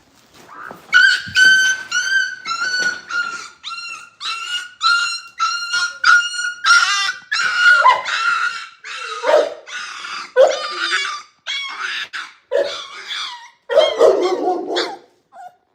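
A Boerboel puppy lets out a long run of high yips, whimpers and small barks in quick, uneven bursts, close by with short pauses between cries.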